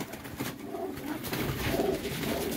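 Pigeons cooing at a breeder's loft, soft repeated low coos running steadily under a faint background hiss.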